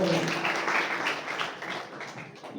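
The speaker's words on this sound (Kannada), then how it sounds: "ಎಲ್ಲರೂ ಚಪ್ಪಾಳೆ" A crowd claps steadily together, a dense, continuous wash of applause that holds at an even level throughout.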